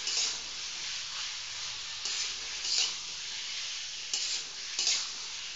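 Boiled, cut potatoes are stir-fried in a pan for an aloo-tamatar curry, a steady sizzle with repeated scraping stirs of a spoon, close and fairly loud.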